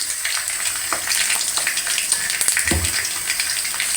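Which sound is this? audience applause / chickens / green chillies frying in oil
green chillies frying in oil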